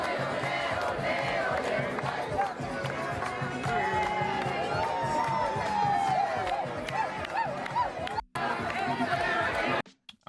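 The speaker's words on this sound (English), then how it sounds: "Massive crowds taken to the street of Venezuela to celebrate President Trump's capture of dictator Nicholas Maduro." Massive crowds celebrate in the streets of Venezuela, a dense roar of chatter, shouting and cheering voices close by that runs continuously before briefly cutting out.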